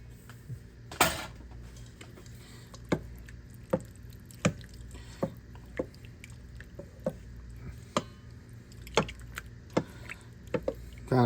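A wooden spoon stirs and mashes sweet potato in a bowl with soft, irregular squishes and scattered knocks and scrapes, mostly quiet and close, with no speech.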